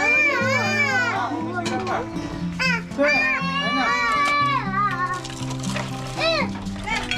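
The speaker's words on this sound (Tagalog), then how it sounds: "dahil mga bata kaya medyo maingay po" Noisy children playing and shouting during a family meal with lechon and shrimp, high excited voices overlapping continuously and close by, with adults talking among them.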